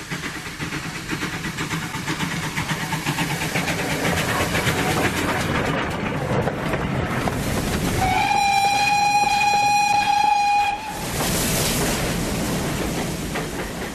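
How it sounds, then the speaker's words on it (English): A train approaching the Berwyn Tunnel on the Llangollen Railway in the Dee Valley, with a loud, steady rumble of wheels and running gear. Partway through, a long two-tone whistle blast sounds for a few seconds, then the rumble carries on. "Here in the Dee Valley, a train approaches the Berwyn Tunnel on the Llangollen Railway."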